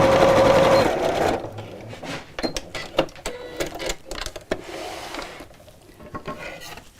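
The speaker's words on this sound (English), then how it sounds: "just slowly back to the top and sew across a little way" A sewing machine runs in a fast continuous burst, then stitches in short slow stops and starts while sewing a zipped fabric pouch with a pocket, close and clear.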